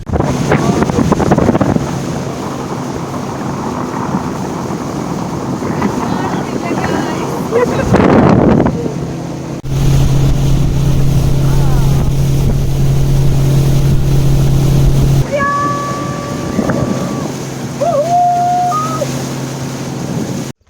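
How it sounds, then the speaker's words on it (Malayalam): A motorboat carries passengers across a lake in Wayanad, its engine a steady low drone beneath wind buffeting the microphone, with splashing water and brief faint voices and tones in between. "ലൈക്ക് ബോട്ട് റൈഡ് നിങ്ങൾക്ക് എവിടെ എക്സ്പീരിയൻസ് ചെയ്യാനുണ്ടെന്നുണ്ടെങ്കിലും നിങ്ങൾ ലൈക്ക് ഒന്ന് ട്രൈ ചെയ്യണം"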